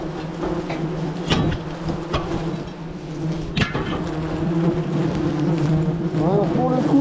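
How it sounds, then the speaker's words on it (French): A dense swarm of attacking wasps buzzes close around a person in a protective suit, a steady droning hum with sharp passes near the microphone and brief knocks, while a voice talks over it. "je me suis rarement fait attaquer par autant de guêpes"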